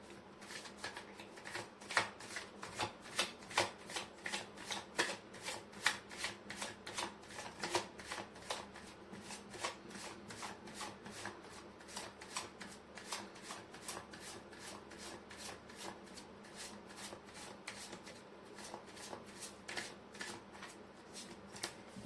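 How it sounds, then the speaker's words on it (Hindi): Tarot cards are shuffled repeatedly in a fast, even rhythm of crisp riffling slaps, close and quiet, continuing without pause and without talk. "मैं कर लेती हूँ कार्ड की शफलिंग।"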